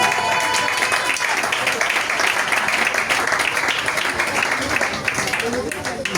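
Applause from a church congregation acclaiming the king of kings, dense and sustained clapping from a crowd that fills the room, with voices mixed in.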